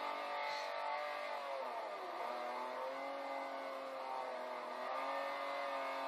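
A race car in a classics circuit race holds a loud, continuous engine note heard close from on board, the pitch sagging briefly and then climbing again as it drives the track.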